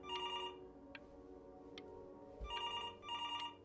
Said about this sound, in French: Un téléphone sonne sans cesse en face de nous